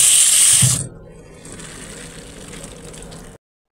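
Lemons rinsed under a running kitchen tap, a loud hiss of water that cuts off abruptly, followed by a quieter steady trickle of flowing water close by.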